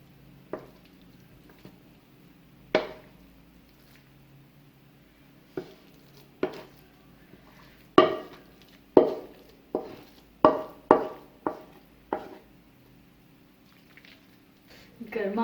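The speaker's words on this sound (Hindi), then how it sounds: "अब हम इसको एक सर्विंग डिश में निकाल लेंगे।" Thick cooked carrot halwa being scooped from a bowl into a serving dish, a series of soft squishy scrapes and spoon taps against the dish, quickening toward the end.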